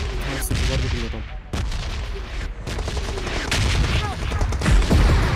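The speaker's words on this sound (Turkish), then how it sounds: "Arkadan tank vuruyor." Tank cannon fire in PUBG Mobile heavy weapons mode: loud, repeated booming blasts and rattling gunfire, dense and chaotic throughout, with players talking over the noise.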